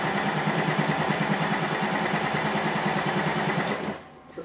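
A sewing machine stitches right along the edge of a jacket shoulder pad, its steady rapid needle chatter running loud and close before stopping near the end.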